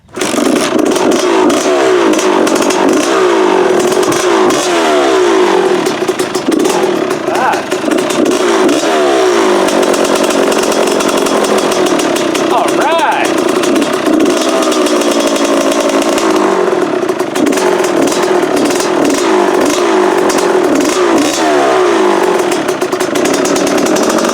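A Kawasaki KX 125 two-stroke dirt bike engine, newly installed, fires up and revs loudly and continuously, its pitch rising and falling in repeated blips. A person speaks briefly beneath the engine noise.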